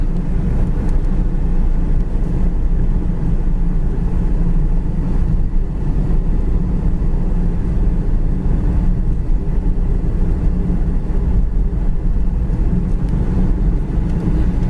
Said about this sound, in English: This little Mustang's really quiet going down the road as far as wind noise and stuff.